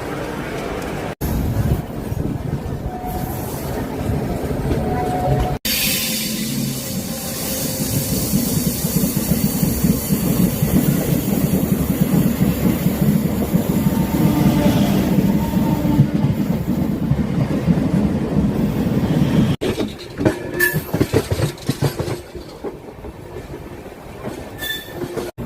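Palnadu SF Express, an LHB-coach train, pulling out of Secunderabad with a loud sustained rumble of rolling wheels and rail clatter, wheel squeal, and sharper clacks and knocks toward the end.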